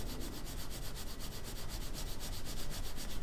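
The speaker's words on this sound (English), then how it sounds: "then I'm going to scrub in the direction that I sanded" Rapid back-and-forth scrubbing of a sanded metal surface, cleaning it in the sanding direction before strain gauge installation; a dense, rhythmic rasping rub repeating several times per second, close and steady with no talking.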